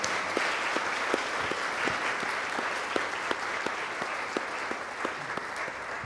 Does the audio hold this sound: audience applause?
yes